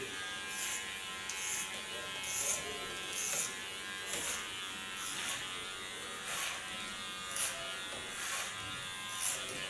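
Electric hair clippers buzz steadily up close, the motor pitch dipping and straining in repeated pulses as the blades push through thick hair.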